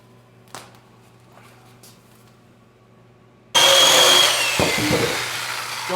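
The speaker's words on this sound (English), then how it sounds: "It's amazing how useful even a dull piece of shit electric chainsaw can be." A dull electric chainsaw cuts wood for a hammer handle. After a few seconds of quiet, faint handling noises, the saw abruptly roars to life and runs loud and continuous, its pitch dipping as it bites into the wood.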